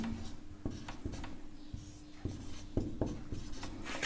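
Pen writing on paper while working out a geometry construction of a triangle, repeated short scratchy strokes and taps in an irregular rhythm, close and quiet with a faint hum underneath.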